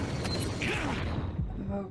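A door lock mechanism in Resident Evil 4 VR gives a short burst of mechanical creaking and clunking, with a few ratcheting clicks and grinding scrapes that fade out toward the end.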